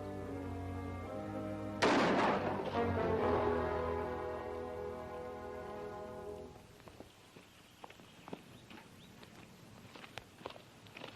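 A single sharp gunshot cracks out in a 1957 Western film and rings with a long echoing decay. A few faint scattered clicks and light footsteps follow in the quiet afterwards.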